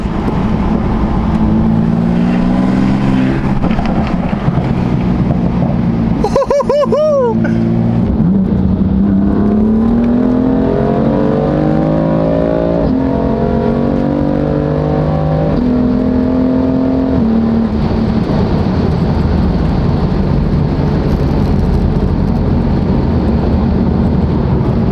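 A BMW M4 fitted with front mount intakes accelerates hard, its engine note rising through several gears with brief shifts between, loud and steady over wind noise, with no talking.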